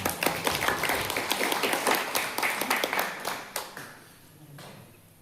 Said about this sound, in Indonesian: Kasih tepuk tangan dong buat Tuhan.